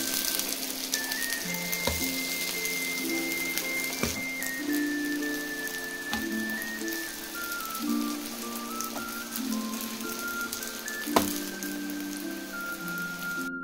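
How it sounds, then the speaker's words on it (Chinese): Thin cowpea-filled pies pan-frying under a lid, a steady close crackling sizzle like rain on a surface, with a few sharp clinks and tonal background music. "盖上盖子烙90秒，等底面上色后翻面烙另一面"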